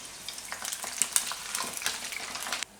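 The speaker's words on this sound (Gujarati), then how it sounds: "તો બધાય આપણે આમાં નાખી દેવું ને એકદમ ધીમા તાપે તળી લેવું." Besanpara, a gram flour snack, deep-frying in oil over low heat, giving a steady, close crackling sizzle with dense popping bursts throughout that cuts off abruptly near the end.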